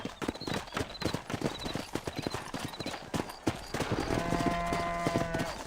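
Rapid hooves clip-clop steadily on hard ground in the video game Red Dead Redemption, with a horse snorting near the end over a low musical tone.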